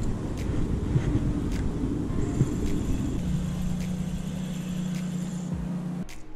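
A worn line roller on a Shimano Vanquish spinning reel makes a loud, steady grinding drone during fishing, with a thin high whine running through the middle of the clip and no talking.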